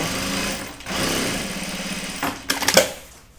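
A sewing machine stitches a seam with white thread on a bag, a steady mechanical whir running close and continuous, pausing briefly before a few louder clunks near the end.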